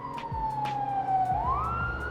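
A Weeyl LED pocket light plays a police siren effect: a thin electronic wail that dips in pitch and then climbs again, accompanied by faint, irregular clicks.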